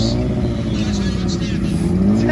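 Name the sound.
Honda Rebel motorcycle revving in a drag race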